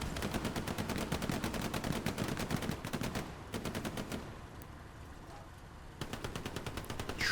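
Rapid machine-gun bursts and rifle fire in the WWII shooter Hell Let Loose during a competitive match, dense and continuous in the first half, briefly thinning out before another burst of shots near the end.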